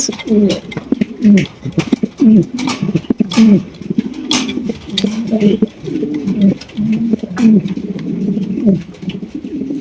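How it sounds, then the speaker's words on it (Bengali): A pair of Mundi pigeons coos close by, low throaty burbling calls repeating in steady pulses, with occasional clicks and faint background noise. "প্রিয় দর্শক এখানে রয়েছে আরও একজোড়া মুন্ডি কবুতর"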